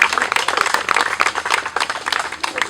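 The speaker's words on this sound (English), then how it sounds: "If you'll give Amanda a round of applause as well." An outdoor crowd at a zoo's Andean bear cub naming ceremony gives a round of applause, a steady patter of many hands clapping together at close range without talk.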